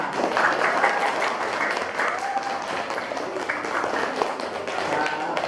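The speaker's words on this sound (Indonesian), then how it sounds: "supaya lebih semangat beri tepuk tangan untuk Salma." A classroom of seventh-grade students claps together for a classmate during an Islamic creed and ethics lesson, a continuous, fairly even burst of hand claps at moderate loudness.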